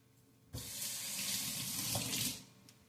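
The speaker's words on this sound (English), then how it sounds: "So let me go wash my hands." A kitchen tap runs for about two seconds while hands are washed under it, a close, steady gush of water that starts abruptly and then cuts off, with no talking.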